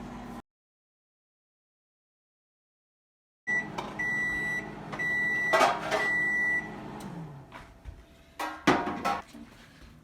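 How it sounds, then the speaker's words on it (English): A microwave oven melting a stick of butter starts up after a silent pause with a run of electronic beeps, then hums steadily alongside faint clinks and clatter nearby. "We're gonna put that in the microwave for 1 minute and let it melt."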